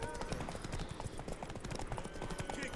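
Rapid, steady clip-clop of horse hooves at a gallop, with game music and a voice talking over it throughout, in the video game The Witcher 3.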